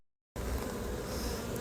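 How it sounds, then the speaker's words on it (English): Bees buzzing densely around a small wooden shipping box holding a queen bee, a steady loud drone that starts abruptly after a moment of silence and continues without talk. "These bees are protecting it, feeding it, and keeping it alive during its shipment."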